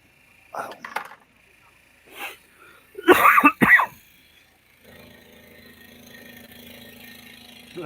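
A loud, sharp sneeze bursts out close by in two quick explosive parts, following a few scattered vocal sounds, with faint background hum after it.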